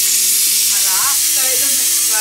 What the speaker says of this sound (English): If you use your pressure cooker, one tip is that always release the gas